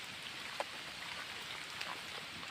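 Steady soft rain falls outdoors during a rainy-day foraging trip for crabs and snails, a faint even hiss with a couple of small drop-like ticks and no talking.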